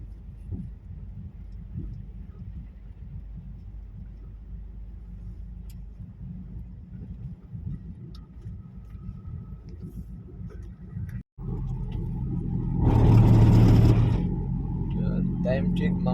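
Vehicle interior rumble while crawling through heavy road traffic past roadworks at night, a steady low engine drone that swells louder near the end.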